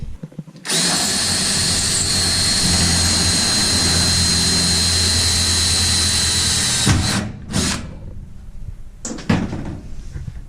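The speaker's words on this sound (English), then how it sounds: "So we're going to drill a hole through here." A power drill bores a hole for pop rivets during winter offseason maintenance, running loud and steady for about six seconds before stopping, followed by a couple of short bursts.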